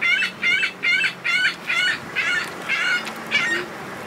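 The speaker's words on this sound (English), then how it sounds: "It's a loud bird" A loud bird, likely a rooster or goose, calls in a steady series of about nine honking, crowing bursts at roughly half-second intervals, close and prominent with no talking over it.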